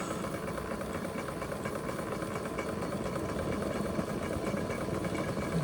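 Vintage Bing 130/382 poppet valve steam engine running steadily after a timing adjustment, a continuous close mechanical chugging with fine rapid beats under a hiss, holding even in level throughout with no talk.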